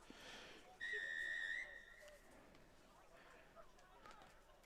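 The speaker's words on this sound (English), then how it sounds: "a whistle stops play" A referee blows one sharp, steady whistle lasting under a second to stop play in a rugby match between Newfoundland and New Brunswick at the Atlantic Rugby Championships. Faint crowd and commentary sounds continue softly afterward.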